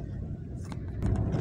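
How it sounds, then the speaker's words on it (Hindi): Cars pass on a busy Sunday road in Dehradun near the cantonment, with Mussoorie-bound traffic; a close, steady engine and tyre roar rises toward the end, with a few brief clatters and no talking. "इधर से गाड़ियाँ आज ज़्यादा आ रही हैं"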